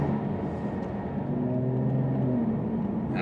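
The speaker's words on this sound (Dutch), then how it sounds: "Je wil horen als je gas geeft, je wil die V6 horen grommen, je wil die uitlaatgeluiden horen." A Jaguar F-Type V6 drives along with a moderate, steady engine drone and rising tonal hum, heard from inside the car without speech.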